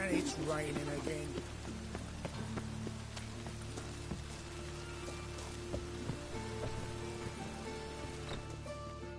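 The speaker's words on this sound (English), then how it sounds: "And it's raining again." Steady rain patters in The Witcher 3: Wild Hunt, a soft wash running beneath music and occasional game voices speaking over it.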